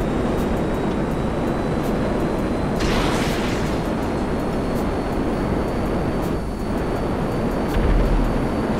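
An airplane roars continuously in GTA 5 Online, a loud steady engine drone with a couple of brief swells as it flies.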